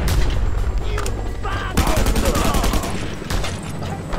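Gunfire in Just Cause 2, repeated sharp shots and rattling bursts coming from several directions across the whole span, loud and near, with game voices and effects mixed in.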